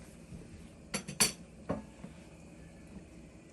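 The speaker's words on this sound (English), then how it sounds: "we're going to put the lid back on this" A lid goes back onto a cooking pot of chicken and dumplings, giving two or three close metallic clinks and a clank in quick succession before a quiet room.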